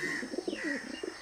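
A pigeon coos close by in a short run of soft, low, rounded notes with a slight throaty warble, plainly audible against a quiet background.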